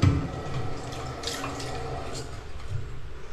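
Bathroom water tap running in a Philippine comfort room, a steady broadband hiss of flowing water throughout with faint splashing, moderate and continuous with no talking.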